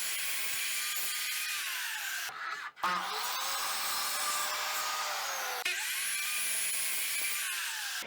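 A power saw cuts through wood guided by a jig, a continuous high, bright whine that dips briefly once before resuming steadily, close and loud with no talking.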